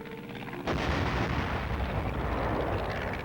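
Artillery fires during army troop training. After a brief quieter lead-in, a sharp, heavy report bursts out and gives way to a sustained, roaring rumble of gunfire that fills the rest of the moment.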